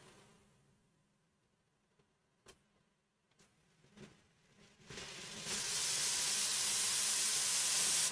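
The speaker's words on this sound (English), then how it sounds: "I'm going to make it come from above with this airbrush." An airbrush spraying paint, a close, steady high hiss that starts after a few faint clicks and taps and then runs continuously and loudly to the end.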